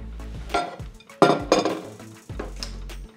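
Several metallic clinks and clatters as the whistle and sealing ring are removed from a pressure cooker lid, a few sharp knocks in quick succession with quiet gaps between.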